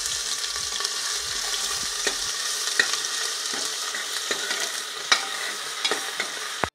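Steady, loud sizzling and crackling of ginger garlic paste frying in hot oil in a pressure cooker, with occasional scraping clicks of a spoon stirring, no voices.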